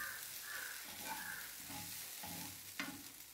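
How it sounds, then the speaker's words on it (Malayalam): Squid and grated coconut roasting in a pan for a Kerala-style squid thoran, a steady sizzle with repeated scraping stirs of a spoon and one sharper clack near the end. "ഇതുപോലെ കുറച്ചധികം നേരം നമ്മൾ ചിക്കി ചിക്കി ഇളക്കി മുരിച്ചെടുക്കണം."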